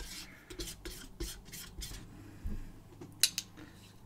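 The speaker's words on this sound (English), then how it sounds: "makes it easier to mull if you've got a really painful pigment like this one" A glass muller grinds diluted paint pigment, making quiet, close, repeated gritty rubbing strokes with a couple of small clinks near the end.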